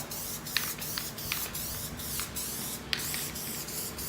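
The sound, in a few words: spray adhesive being sprayed on a car interior panel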